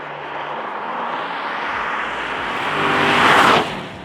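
A Mercedes-Benz SLK55 AMG's V8 engine roars steadily from inside the car while driving, building to a louder, rising peak near the end before easing off.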